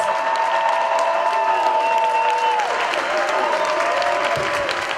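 Steady applause from a large crowd with scattered cheers, sustained and loud throughout.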